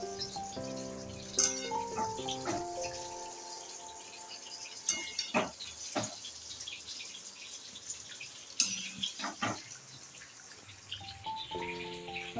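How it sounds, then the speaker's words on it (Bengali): Water drains and drips from freshly washed taro leaves in a basket, with soft, uneven trickles and scattered close drips that come in small bursts, faint and without speech. "এভাবে আমি জলটা ঝরিয়ে নেবো"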